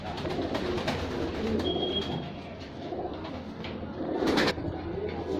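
Soft, low cooing from a pair of Chinese owl pigeons fills the clip against a busy background of rustling and ambient noise, with a brief higher tone partway through.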